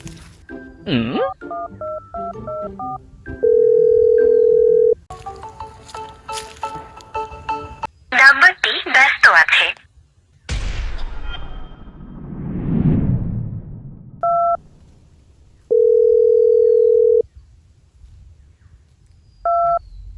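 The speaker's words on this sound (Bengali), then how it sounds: "বস বস ফোন দিচ্ছে" Telephone keypad tones beep in quick bursts, broken by steady ringback tones as a phone call is placed in a comedy sketch. Several loud clusters of dialing beeps alternate with long single ring tones.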